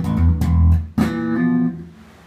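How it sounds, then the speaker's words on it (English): A very low-cost electric bass guitar plays a few plucked low notes through an amp with flat EQ, clean and close, each ringing briefly before the next. "A very low cost bass can sound like this."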